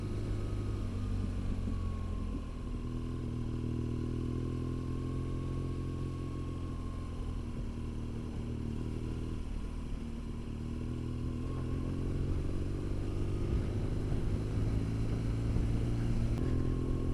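A BMW R1200 GS 30th Anniversary motorcycle with a second-hand Akrapovic exhaust idles close by in a steady, deep rumble for the whole stretch. The level stays unbroken, with light mechanical clatter on top.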